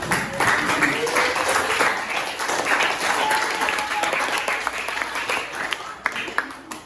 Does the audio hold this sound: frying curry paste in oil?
no